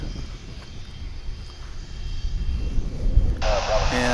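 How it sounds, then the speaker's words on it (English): An airplane landing at DFW International Airport, arriving from Waco, Texas, with its engine rumble building gradually from distant to louder over a few seconds before a bright tonal sound cuts in near the end. "We've got one coming in from Waco now, Waco, Texas, which is just another one of those short jaunts to the south of us."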